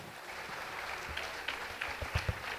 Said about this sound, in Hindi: एक बार मैं चाहती हूँ कोरस के लिए भी जोरदार तालियां हो जाए